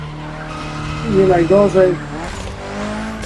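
Tyres squeal briefly as a car drifts in a racing video game driven with a Logitech G29 wheel, a rising screech over steady engine drone while someone talks.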